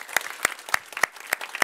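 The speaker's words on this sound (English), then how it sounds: "so an applause, yes, of course." Sparse clapping at a Market Access Day conference: a handful of separate, sharp claps spaced at a fairly regular pace rather than a full crowd ovation.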